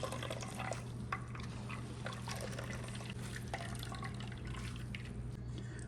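Coconut milk drips and trickles steadily through a strainer as grated coconut is squeezed by hand, with soft wet patters and a continuous close-up liquid sound.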